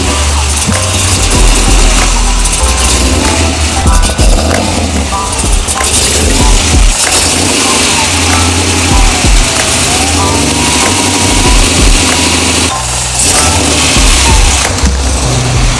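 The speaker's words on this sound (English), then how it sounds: "You hear that weird idling?" A car engine idles roughly close by before warming up, just after coolant was added, with an uneven rumble that is loud and steady, with faint clanks and shifting tones throughout.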